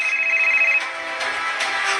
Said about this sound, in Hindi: लेकिन तभी उसका फोन बजा।